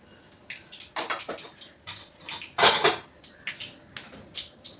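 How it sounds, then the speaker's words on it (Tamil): Mustard seeds spluttering in hot oil in a pan while upma is being made: sporadic sharp pops and crackles, one louder cluster midway, close by and without talk. "இப்போ கடுகு பொரிஞ்சிருச்சு."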